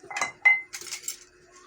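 Drinking glasses and spoons being washed by hand in a home kitchen, with a few sharp glassy clinks and metallic taps of cutlery close by, in brief irregular bursts without talk.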